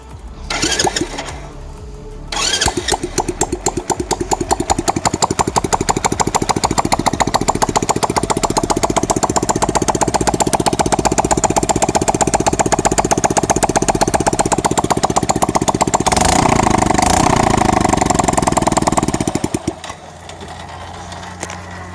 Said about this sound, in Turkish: Gördüğünüz gibi egzozsuz nasıl sesimiz çıkıyormuş.